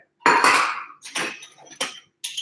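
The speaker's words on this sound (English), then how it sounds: "you guys get to watch me clean my dishes tonight" Glass and rubber dishware clink during dishwashing: four separate bright knocks and clatters spaced about half a second apart, close and fairly loud, with no talking.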